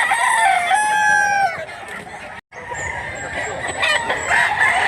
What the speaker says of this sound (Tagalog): Daghan og manok pro adlaw.